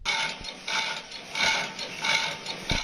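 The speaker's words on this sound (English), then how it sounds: "I found a video from the inside of a printing press. Inside of a printer." A running printer whirs and clacks from inside its mechanism, with rhythmic mechanical surges about every three-quarters of a second, a ratcheting, gear-driven clatter and soft thumps, heard up close with no talking.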